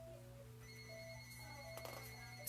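A telephone rings faintly in the background of a home Q&A session, a steady electronic ringtone tone pattern over a constant low hum, with no talk.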